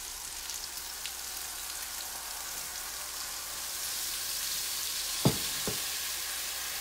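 A pan of gravy made with Kerrygold butter, oil and steak drippings for chicken fried steak sizzles with a steady, soft, even hiss, broken by two quick clacks near the end.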